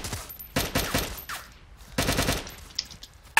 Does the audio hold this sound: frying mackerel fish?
no